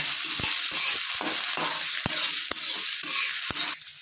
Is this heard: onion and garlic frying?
yes